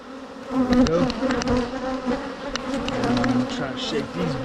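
Honeybees hum in a steady, loud swarm around a colony feeder being moved, a dense close buzz with wingbeat pitches wavering continuously.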